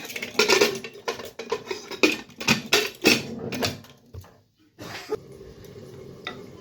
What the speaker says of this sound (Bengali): ঢাকনাটা বন্ধ করে দিব।